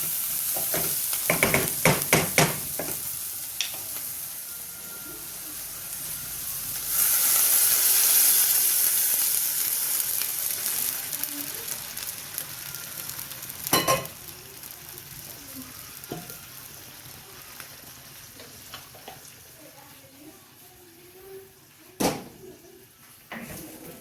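Caramelized vegetables for a risotto sizzle in a pan, with a burst of stirring and scraping clatter early on, then a steady soft frying hiss broken by occasional clinks of the spoon; no talking.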